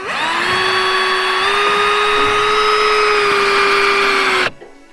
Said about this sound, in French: Je vais simplement la visser.